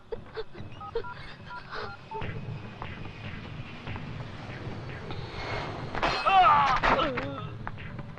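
Faint keypad beeps from a phone being dialed, a few short tones over low background noise, with a louder burst of voices and commotion near the end.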